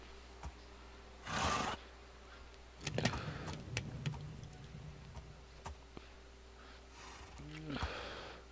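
A Minecraft horse gives a few short, separate calls and snorts against a quiet game background, with small clicks and movement noises between them.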